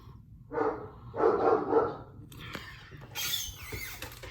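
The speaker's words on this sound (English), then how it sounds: "That's my dog in the background." A dog barks a few times in the background, in short bursts that sound fairly faint and distant, with some higher squeaky sounds near the end.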